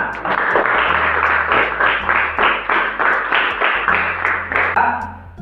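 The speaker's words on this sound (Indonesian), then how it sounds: "tepuk tangan untuk kita semua" A class claps together in steady, even beats, a run of crisp, close hand claps keeping time for several seconds.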